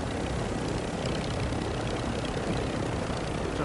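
A video-game airstrike plane passing overhead makes a dense, continuous engine roar that holds steady and loud throughout, with no talking over it.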